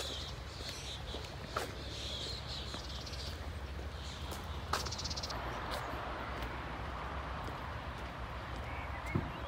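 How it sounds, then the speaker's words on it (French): Horses' hooves clip-clopping in the countryside, faint, scattered and irregular against a steady outdoor background hiss with occasional bird chirps. "Encore des chevaux, ça me fume."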